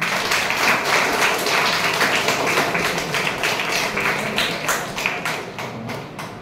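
Students at a high school quiz prize ceremony clap for a prize winner, a steady, dense round of applause from many hands filling the hall, with no speech.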